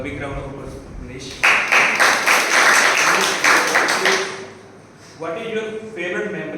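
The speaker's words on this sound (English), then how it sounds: "big round of applause, Manish." A short round of clapping from a small meeting group, starting abruptly after a voice and lasting about three seconds, close and moderately loud, with talking before and after.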